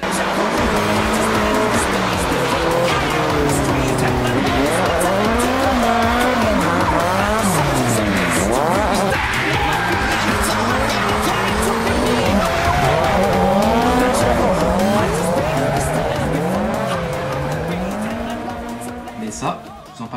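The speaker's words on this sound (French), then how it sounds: "Un truc pas trop connu qui s'appelle le drift." A car drifting with loud, continuous tire squeal that wavers up and down alongside a revving engine, close and sustained for the whole stretch, with talk faintly mixed in.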